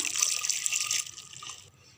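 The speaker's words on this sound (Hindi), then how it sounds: "अब हम इसमें डालेंगे 1 कप पानी" One cup of water poured into a pressure cooker holding vegetables for pav bhaji, a bright splashing gush for about a second that quickly tapers into a faint trickle.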